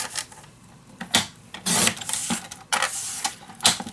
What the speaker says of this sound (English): so I'm gonna cut 2 strips, 1/2 inch.